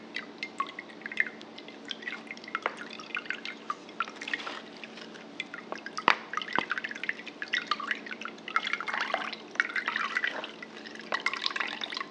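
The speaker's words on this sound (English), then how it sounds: "Just pour it in a really fine colander." Juice drips and trickles steadily through a fine colander as fruit pulp is strained, a patter of small droplets that grows busier toward the end.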